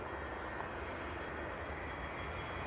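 A Jet2 passenger jet rolls for takeoff at Leeds Bradford Airport, its engines giving a steady, fairly distant broadband roar with no voices over it.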